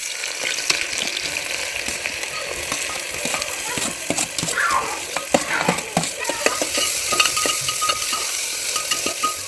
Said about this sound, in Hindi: जो बारीक सा प्याज काट के रखा है ना वो डाल देते हैं